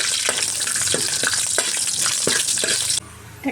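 Crushed garlic fries in hot oil with curry leaves in a loud, dense sizzle, with rhythmic stirring scrapes. The crackle drops abruptly to a quieter hiss near the end.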